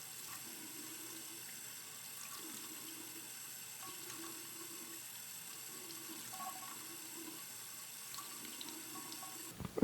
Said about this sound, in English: We take a little bit of water in our hand, put it in our mouth, swish it around,